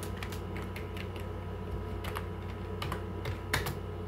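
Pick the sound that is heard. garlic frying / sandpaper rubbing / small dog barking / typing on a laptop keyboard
typing on a laptop keyboard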